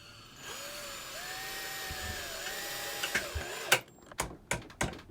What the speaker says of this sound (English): look at her handle this drill driver